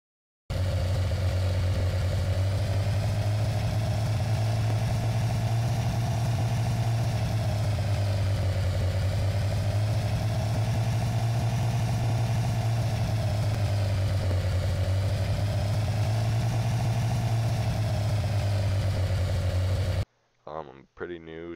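A Roblox video game car engine hums steadily while its pitch rises and falls gently with the car's speed, a loud synthetic drone that holds for about twenty seconds and then cuts off abruptly.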